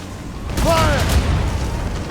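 A ship's cannon fires in Assassin's Creed Rogue, one deep booming blast partway through, followed by a rumbling tail and no talk.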